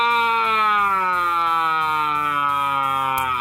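Wailing siren with a steady, loud, pulsing tone that glides slowly downward over a few seconds, heard on its own with no talk.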